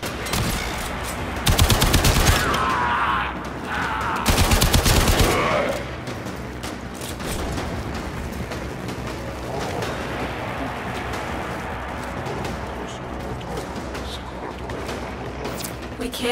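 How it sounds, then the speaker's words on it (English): Warframe cannon fire during a prisoner rescue mission: two heavy, loud booming blasts a few seconds apart, followed by a long stretch of lower steady rumble and distant mechanical noise. "Are they shooting cannons?"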